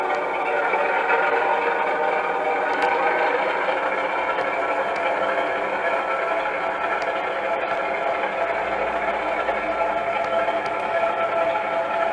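A model railway locomotive on the Seven Mills Sidings layout pushes wagons up into a junction yard. It makes a steady, continuous mechanical whirring rumble with a faint tonal hum, even in loudness from start to finish.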